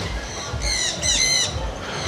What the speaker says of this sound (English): You can see the parrots over here.